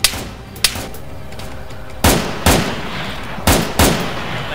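Gunfire in the military game Arma 3: single sharp shots close by, then a run of several louder cracks with short echoing tails, spaced irregularly over steady background noise.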